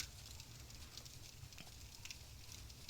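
A bonfire crackling in the video game Dark Souls, a faint continuous hiss with soft scattered pops and snaps and a low rumble underneath, heard alone without talk.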